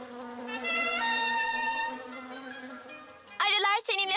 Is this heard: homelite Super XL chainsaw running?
no